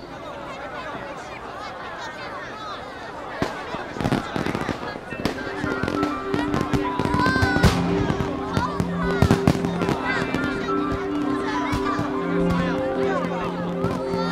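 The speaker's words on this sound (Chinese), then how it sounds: "这烟花我听说是最新设计的" Newly designed fireworks burst in a rapid series of sharp booms and crackles, densest in the middle, over a steady tonal music bed.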